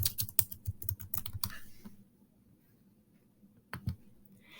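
Quick bursts of computer keyboard typing for nearly two seconds, close and fairly soft, then a pause and a brief final pair of keystrokes; no talking.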